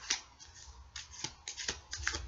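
Tarot cards are shuffled in quick, rustling bursts with soft riffling snaps, close and fairly quiet, with no talking.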